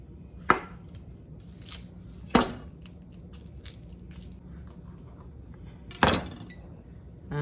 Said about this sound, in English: I generally don't slice garlic, so bear with me. We have to peel it and slice it.